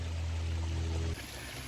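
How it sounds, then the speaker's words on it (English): Water spilling steadily over a freshly cleaned garden pond waterfall, a continuous close rush and trickle with no voices, its low rumble dropping away partway through. "Fresh, nice and clean waterfall."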